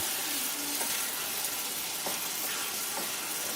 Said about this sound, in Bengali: এবারে এর মধ্যে আমি ভেজে রাখা আলুটা দিয়ে দিলাম। আলুটা মশলার সাথে ভালো করে মিশিয়ে নিচ্ছি।